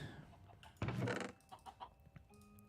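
A chicken clucking in Minecraft, a short burst of clucks in the middle, fairly faint against a quiet game background.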